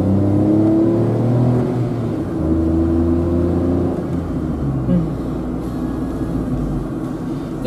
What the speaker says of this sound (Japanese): 2速から走ってみましょう。